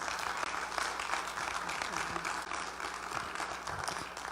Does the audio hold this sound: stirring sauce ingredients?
no